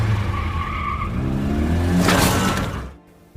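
A car speeds away at night, its tires skidding loudly, then crashes through a gate with a sharp smash before the noise cuts off abruptly.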